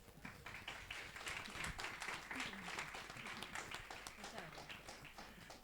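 An audience at a university history lecture welcomes the speaker with applause, a scattered patter of clapping that sounds quiet and somewhat distant, with voices murmuring underneath.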